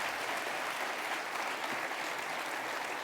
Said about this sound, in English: May we please have a round of applause for all of our elected officials.